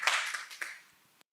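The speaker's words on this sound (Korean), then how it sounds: "여러분 뜨거운 박수로 환영을 해주시기 부탁드립니다" Applause from a conference audience at a Korean reunification mission event: a brief, quiet patter of hand claps that fades out within about a second, with no talk.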